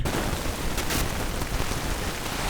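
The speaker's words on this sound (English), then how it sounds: "Hope you can hear me with the rain baiting off the back and bivvy right now" Rain drums steadily on the back of a bivvy shelter on the Shannon Estuary shore, a dense, continuous patter close by with no voices.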